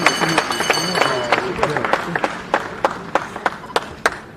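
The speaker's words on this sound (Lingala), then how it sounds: "Est-ce que vous pouvez applaudir très très fort pour M." An audience applauds at a comedy event, with scattered sharp claps and a crowd murmur that keep going throughout, mixed with voices.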